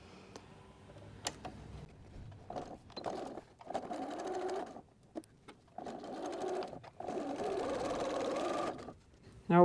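A sewing machine stitches through plastic snack-bag material with a regular sewing foot, running in several short bursts separated by brief pauses, close and fairly quiet.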